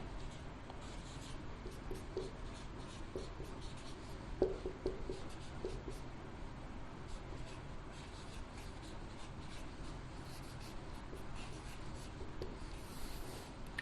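A maths step is written by hand, a continuous close scratching of pen or chalk on the surface with small irregular strokes over a low steady room hiss.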